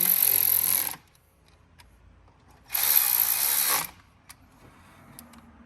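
A power tool whirs in two bursts of about a second each with quiet between, close and fairly loud, driving screws while a new brake rotor is fitted on an E46 M3.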